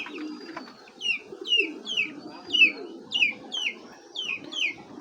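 A male Almond racer pigeon, an imported bird, coos close up in a repeated series of rolling, throaty phrases at an even rhythm, with a soft background hum between calls.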